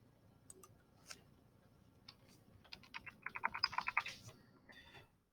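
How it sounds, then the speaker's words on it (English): Scattered keystrokes on a computer keyboard build into a quick burst of close, crisp clicks before trailing off, quiet and alone. "we're going to go ahead and type in lesser"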